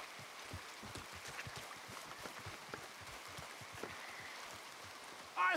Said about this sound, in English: Come on, it's raining.